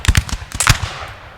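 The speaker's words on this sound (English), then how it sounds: "Our artillery firing." Artillery fires in the Napoleon Total War video game: a rapid cluster of close, loud booms and cracks in the opening moments, then a fading rumble.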